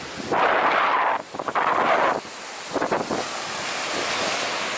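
Surf washes onto a beach as the tide comes in, with loud rushing waves rising and falling in bursts, buffeted by heavy wind noise on the microphone.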